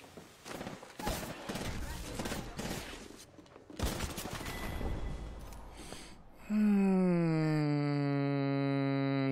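Bursts of automatic gunfire from an Apex Legends match crackle through the first six seconds in dense volleys, giving way to a steady tonal game sound at the end.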